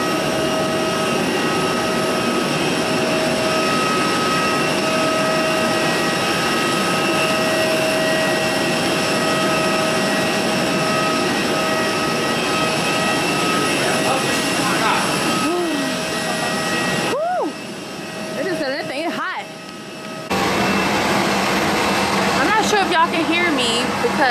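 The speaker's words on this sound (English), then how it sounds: "Because I'm outside where the planes are landing" Aircraft engine roar from planes landing at an airport in Turks and Caicos, a loud continuous jet whine and rumble heard from outside near the runway, dipping briefly before rising again.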